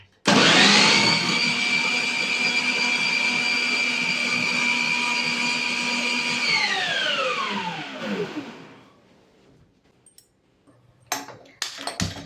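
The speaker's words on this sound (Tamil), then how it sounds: "ஸோ நம்ம இதையுமே வந்து சாப்பரில் போட்டு நம்ம சாப் பண்ணிக்கலாம்." An electric food chopper whirs loudly and steadily for about seven seconds, its motor pitch sliding downward as it powers off and spins down, followed by a few faint clicks and knocks.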